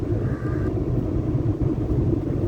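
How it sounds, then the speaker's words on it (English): Volkswagen Ameo engine fitted with a throttle controller, heard as a loud, steady, close rumble that runs continuously without any talking. "The engine is really very responsive now."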